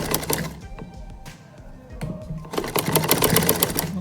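A sewing machine stitches trouser fabric with a rapid mechanical rattle, close and fairly loud. It starts, pauses briefly, then runs again more strongly.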